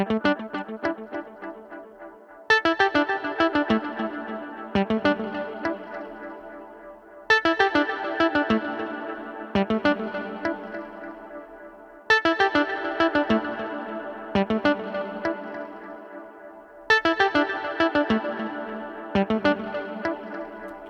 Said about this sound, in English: a mix of both the dry delay like this and reverb